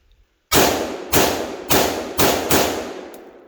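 Rifle shots fired at a target during a wooded hill assault course, five loud, sharp reports in quick succession, each with a short echoing tail, and no talking.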